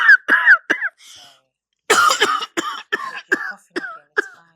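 A person coughs repeatedly in short harsh bursts, a tight cluster at first, then a pause, then a longer run of spaced coughs, close and loud.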